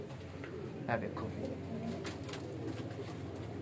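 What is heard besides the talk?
pigeons cooing, breeder pigeons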